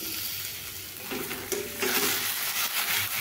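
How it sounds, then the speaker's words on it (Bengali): Boiled potatoes being stirred into a soya cutlet mixture in a pan, a close soft sizzle with wet scraping and mashing strokes that grow busier toward the end, no talk. "এবার সবগুলোকে বেশ ভালোভাবে সব কিছু একসঙ্গে এইভাবে আমি মিশিয়ে নেব।"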